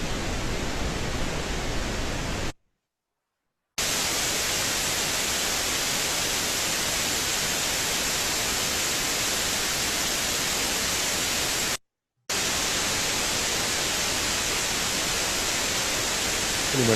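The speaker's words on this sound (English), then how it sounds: "the next thing up is white noise" A steady broadband hiss used as a white noise test signal plays at even loudness. It is broken by two short silent gaps, one near the start and one near the end.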